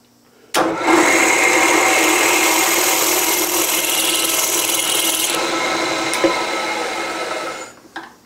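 Power drill boring a 3/8-inch clearance hole through metal, a loud continuous grinding whir that starts abruptly and runs steadily for several seconds before winding down.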